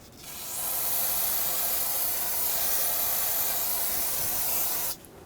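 Brake parts cleaner sprays in one steady, close hiss for about four and a half seconds, then cuts off abruptly, cleaning up spilled fluid around the rear center brake hose of a 2007-2014 Chevrolet Silverado 2500 HD.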